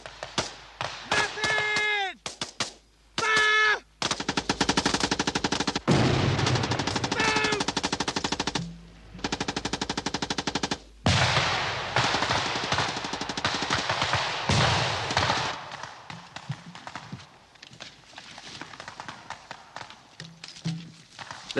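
Machine gun bursts and rifle fire crack loudly during an infantry section's withdrawal through woods, with dense rapid volleys and sharp single shots separated by brief pauses, and voices shouting between the bursts.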